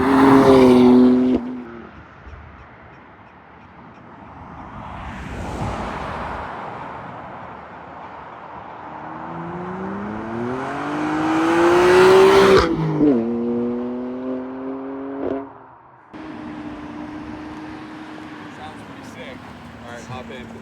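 BMW M4 fitted with a single mid-pipe exhaust, on a road in Mexico, swelling from far to near as it revs through gears and passes by, roaring loudest mid-flyby, then fading and returning for a second pass.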